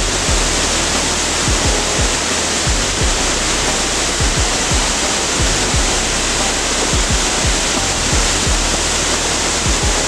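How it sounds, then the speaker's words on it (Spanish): A waterfall on a ranch in Oaxaca, Mexico, roars in a loud, steady rush of crashing water, with deep rumbling thuds scattered through the constant spray, and no voices. "Está bonita la cascada, ¿no?"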